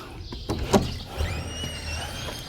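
A door with a window in it on a traditional Spanish village property is opened, a short scrape and clack followed by a soft squeaky slide, close and moderately loud.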